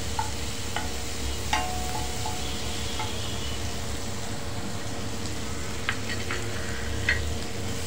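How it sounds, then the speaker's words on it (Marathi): Onion frying in a pan for masala pav, a steady, even sizzle filling the whole stretch with a few faint clicks of a spoon against the pan, close and continuous. "आता आपण कांदा घालूया।"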